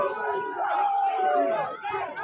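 A dense crowd at the January 6th Capitol riot chatters and shouts in a continuous babble, loud and close, with overlapping voices and no single clear speaker.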